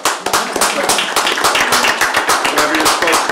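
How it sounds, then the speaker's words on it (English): A city council audience applauds a historic preservation month proclamation in Leavenworth, Kansas, a dense burst of close, crisp clapping from many hands sustained for a few seconds without talk. "And you may applaud."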